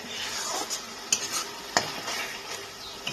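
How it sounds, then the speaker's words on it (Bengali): Masala for a bhetki fish head curry sizzles softly in oil as a spatula scrapes and stirs it around the pan, with sharp clicks of metal on metal every so often, quiet and close. "যতক্ষণ না পর্যন্ত এটার থেকে একটু মশলাটা ভালোভাবে কষে তেলটা ছেড়ে যায়, ততক্ষণ আমি একটু এটাকে কষাতে থাকবো"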